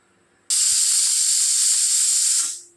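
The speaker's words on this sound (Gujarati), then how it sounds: "જો આપણી 2 વિસલ થઈ ગઈ છે" A pressure cooker cooking black urad lets out one loud, close whistle, a sudden hissing burst of steam that holds steady for about two seconds and then fades away, with a quiet room before and after.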